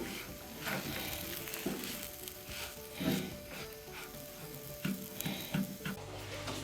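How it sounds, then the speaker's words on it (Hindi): Semolina dry-roasting in a pan over low heat gives a faint, steady soft sizzle with occasional light scraping and stirring taps, quiet and close. "सूजी को इतनी देर भूनें कि ये अच्छी तरह ब्राउन हो जाए"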